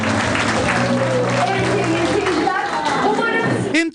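Audience applause at a youth theatre performance in Borçka, heard as steady clapping under a talking voice throughout.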